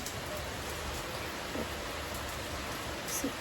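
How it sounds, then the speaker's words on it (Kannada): Heavy rain pours outside in a steady, dense broadband wash that holds even and constant throughout, close and enveloping, with no distinct individual drops and no voices. "ನೋಡ್ತಾ ಇರ್ಬೋದು ನೀವು, ಆಚೆ ಸೌಂಡ್ ಕೇಳಿಸ್ತೀವಿ ಎಷ್ಟು ಮಳೆ ಅಂತಂದರೆ."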